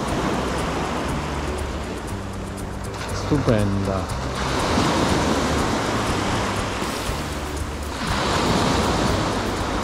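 Sea waves roll onto the shore in a broad, continuous wash that swells twice. Someone speaks briefly over the surf near the middle.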